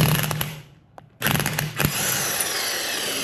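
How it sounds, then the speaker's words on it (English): Impact wrench unbolting a part on a Honda CRF300L motorcycle during gear shifter spindle work: a loud buzzing mechanical whir that runs, stops briefly, then restarts and continues steadily at close range. "All right, so we're gonna try our impact wrench."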